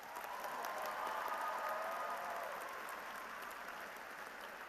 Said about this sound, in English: let's give Hunter and Jocelyn a nice round of applause.